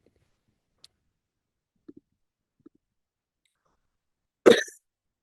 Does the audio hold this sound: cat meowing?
no